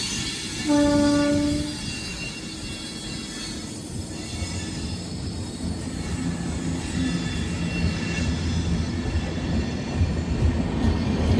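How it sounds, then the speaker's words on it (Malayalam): The Brahmaputra Mail train rumbles along with a brief horn blast near the start, its low rolling noise continuing steadily to the end. "എന്താ അവിടെയൊക്കെ ട്രെയിൻ പോകുന്നത് കണ്ടോ?"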